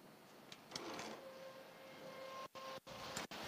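A Printrbot 3D printer works in an office, its stepper motors whining in steady tones with short bursts of movement and a few abrupt pauses, heard close and alone.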